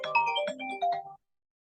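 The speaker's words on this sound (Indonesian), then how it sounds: "Kok ada yang telepon?" A telephone ringtone plays a brief bright melodic chime in a lecture room, a quick run of tones lasting about a second before cutting off to silence.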